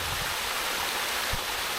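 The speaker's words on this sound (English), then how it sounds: "the water is literally running like a waterfall over here" Water from a missing pipe pours over the edge like a small waterfall, a steady broadband rush close by with no talk.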